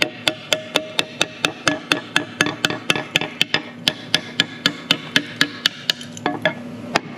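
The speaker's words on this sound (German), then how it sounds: "Ihr kennt das immer mit dem Schieferdino hauen." Schieferdino slate hammer striking slate while shaping slate hearts, a steady rhythm of about thirty sharp close taps, slowing slightly toward the end, with no talk.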